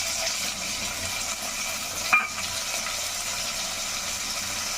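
Coriander and mint being stirred into a paste in a pan for egg biryani gravy, a steady soft sizzling hiss with faint scraping and one brief louder scrape partway through, no voices.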